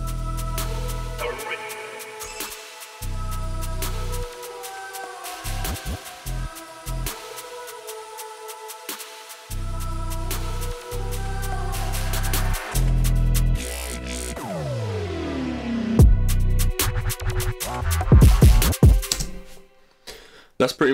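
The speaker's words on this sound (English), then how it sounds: "it's just got reverb on it, and then it fades out and then comes into the actual beat" A UK drill beat made in FL Studio opens with a reverb-soaked intro that washes out in a falling, fading sweep. Punchy drums and heavy low bass then drop in, loud and busy, ending with sharp hits.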